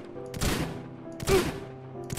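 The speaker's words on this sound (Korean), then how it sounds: "자, 이번에 사격." Two short bursts of rapid gunfire from a Minecraft game, each a dense rattling volley lasting under half a second, separated by a pause, with no voices.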